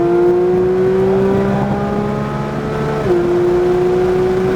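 A GT3 race car accelerates hard around the Hedge Hollow track, its loud engine note climbing steadily, dipping briefly at one upshift, then rising again.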